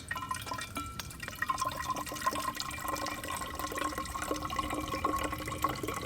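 A small, light hiking water filter pours a steady stream into a bag, with continuous splashing and trickling close by and bright droplet patter over a constant flow, no voices.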